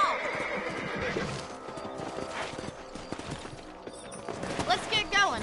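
Horses in the Red Dead Redemption video game on PS5: a clear whinny rises over the rhythmic clip-clop of hooves, with other game sounds and voices in the background.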